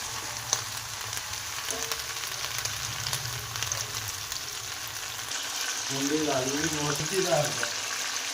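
Chicken pieces sizzle steadily in a pan over low heat, a continuous soft frying hiss with occasional stirring clinks and a voice speaking briefly near the end.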